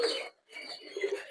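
Domestic pigeons coo softly at close range in a home loft, two short throaty bursts separated by a brief pause.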